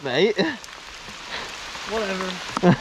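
Steady rain patters on a wet forest mountain bike trail, a soft continuous hiss under brief nearby talk at the start and end.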